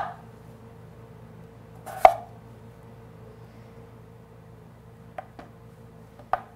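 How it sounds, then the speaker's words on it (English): A knife cuts through a potato on a cutting board in a home kitchen, giving a few sharp, separate chopping knocks, one near the start and a small cluster toward the end, against quiet room tone. "gonna start by cutting our potato"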